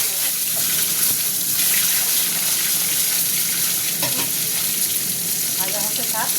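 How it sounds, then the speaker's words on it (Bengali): Boiled eggs fry in hot oil in a home kitchen, giving a loud, steady sizzle and spatter that runs the whole time, with bubbling crackle and small pops rising near the end and no talk. "এই ডিমগুলো ভাজা হয়ে গেছে, তুলে নিচ্ছি।"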